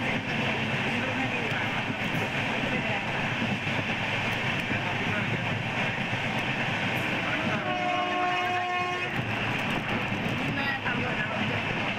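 The 07192 Madurai to Kacheguda special express rolls through a skipped station with a steady loud rumble and rail clatter heard from on board, and a horn sounds briefly near the middle.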